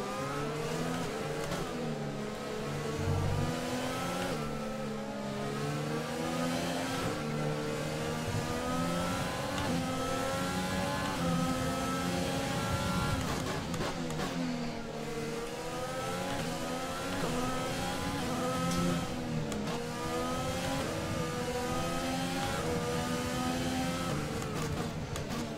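Formula 1 cars race at Melbourne in the video game F1 2020, a continuous high-revving engine whine rising and falling through gear changes and corners, loud and steady throughout with no talk.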